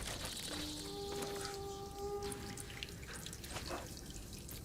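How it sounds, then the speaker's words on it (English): Hot water is poured over salmon with a splashy trickle and scattered drips, joined for a moment by a few clear ringing tones. "Pour hot water over the salmon."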